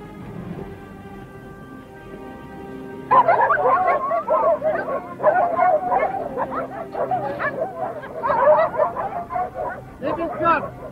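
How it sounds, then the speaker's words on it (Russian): Several sled dogs barking and yelping in an icy outdoor setting, an excited overlapping chorus that starts abruptly after a few seconds of low rumble and keeps going loud and close to the end, with some voices in the background. "Давай за собаками!"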